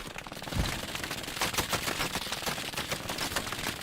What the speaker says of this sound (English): making their way for a nightmarish area of multiple MG fires from all sides